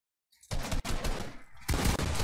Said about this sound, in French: Que du fusil d'assaut, que de la MP4.